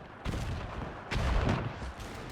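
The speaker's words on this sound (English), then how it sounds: "Now all artillery fire is coming after this bastard." Artillery fire in the World War I game Between Empires: heavy booming blasts with rumbling low-end impacts, two or three distinct thuds over a noisy battlefield backdrop, moderately distant.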